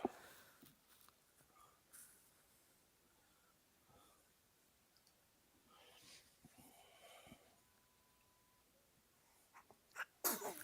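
A single sneeze bursts out near the end of an otherwise quiet stretch at a live fight-night betting and predictions show, loud and brief against faint background noise.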